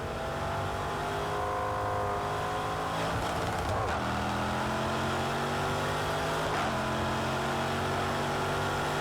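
Race car engine at Cadwell Park in the Project Cars 2 racing game, a loud, continuous high-revving drone with sweeping pitch changes through gear shifts and braking, brief tire noise in places.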